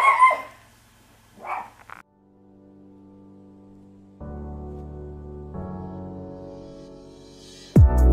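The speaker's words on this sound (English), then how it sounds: "my dog barking in the background" A few short dog barks early on, fairly close, followed by quieter tonal background sounds and a sharp burst near the end.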